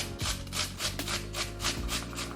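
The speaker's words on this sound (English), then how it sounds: "we're literally just going to grate our potato." A potato is grated by hand in quick repeated strokes, each a scraping rasp, about a dozen rhythmic swipes close up with no talking.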